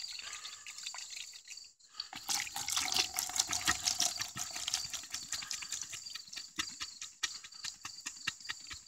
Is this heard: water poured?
yes